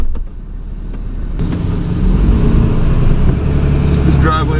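A large pickup truck turning around on a narrow driveway, its engine idling then building to a steadier, louder rumble as it maneuvers, with a few clicks and knocks and some faint background sounds.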